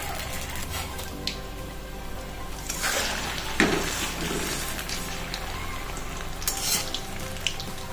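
Chicken pakoras deep frying in oil over low to medium heat, a steady crackling sizzle running throughout with occasional louder pops and bursts.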